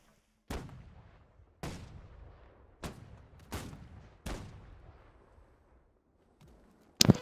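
Ship cannons firing in a naval battle in Holdfast: Nations at War: five heavy booming shots at irregular intervals, each with a long rolling decay, followed by a sharp burst near the end.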